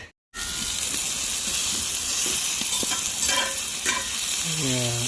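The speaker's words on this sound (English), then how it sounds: "Cooking some burger now, guys, for our snacks here." Burgers fry on a camping stove with a loud, close, continuous sizzle and hiss, broken by a few scrapes and stirring sounds.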